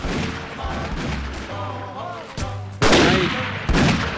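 Gunfire in the 1860s Civil War video game Union Forever: sharp, loud shots and bursts crack out irregularly over a busy mix of game noise, with singing or chanting voices partly overlapping.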